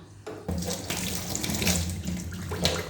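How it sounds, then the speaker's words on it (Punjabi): Water runs and gurgles down a kitchen sink drain, a continuous splashing wash that starts abruptly and holds steady for a few seconds, close by with no voices. "ਆ ਦੇਖੋ ਪਾਣੀ ਐਨ ਬਿਲਕੁਲ ਹੀ ਜਾਣ ਲੱਗ ਗਿਆ"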